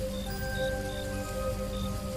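Rain falling on a night scene in a Hindi horror cartoon, a steady soft patter that runs throughout with faint sustained background music beneath it.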